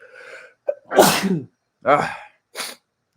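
A person sneezes: a short intake and then sharp, loud bursts close to the microphone, in a quiet room.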